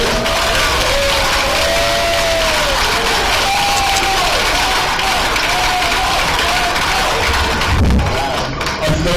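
A live audience cheers and applauds at a hosted show, a loud, sustained roar of clapping and whoops with a few shouted voices rising above the crowd before it begins to fade near the end.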